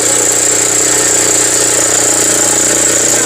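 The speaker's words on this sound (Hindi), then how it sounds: "भाई वीडियो में सिर्फ ये टेस्ट हो रहा है कि इंजन लोड ले रहा है या नहीं ले रहा है" Tractor engine running steadily under load at an agricultural fair in Ludhiana, a continuous close, loud mechanical drone with a constant hum throughout.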